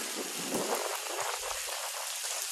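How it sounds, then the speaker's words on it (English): Steady rain falls over an empty ballpark concourse at TD Ballpark during a thunderstorm, a continuous hiss of drops that holds level throughout with no voices. "and it's raining again"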